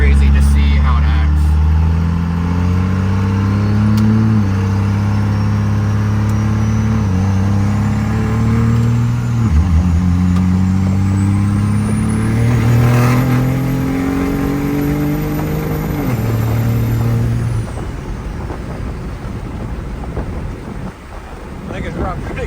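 A second-generation car's engine revs on its first drive, climbing in pitch through several steps like gear changes. The loud engine stays close and steady, then drops away near the end.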